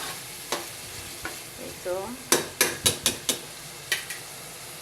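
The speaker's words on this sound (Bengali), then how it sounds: "এখন আমি দিয়ে দেব কাঁচামরিচ কেটে রেখেছিলাম, এটা দিয়ে দিলাম, দিয়ে একটু নেড়ে দেব।" Chopped green chillies fry in a pan with a steady sizzle while a spatula clacks against the pan in a quick run of knocks, with a brief spoken remark in between.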